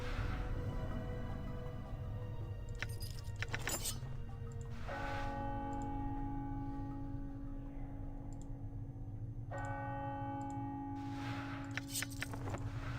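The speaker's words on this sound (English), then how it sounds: "Is that bell gonna turn off eventually or nah?" A bell rings in the video game Planescape: Torment with faint, repeated chimes. Each strike rings on with a sustained tone over a quiet background.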